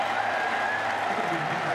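Stadium crowd cheering at a USC football game after an extra-point snap: a dense, sustained roar of many voices with some applause, broad and distant-sounding, steady throughout.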